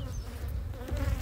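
Honeybees hum steadily and continuously close by around a hive, a dense buzzing drone that swells slightly toward the end.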